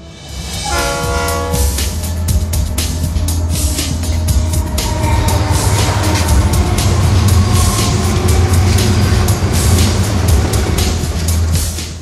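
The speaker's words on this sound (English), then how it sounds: "Kids, look there. It is a train." A train rumbles past with steady clattering and a loud horn blast near the start, the low mechanical roar continuing throughout.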